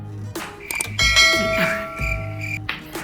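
A notification bell sound effect rings out in several bright, sustained metallic chimes, repeated over a low rhythmic hum and fairly loud throughout.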